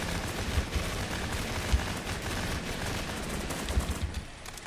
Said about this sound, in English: I love the sound and smell of unified gunfire.